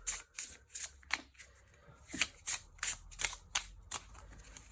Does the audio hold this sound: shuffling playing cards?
yes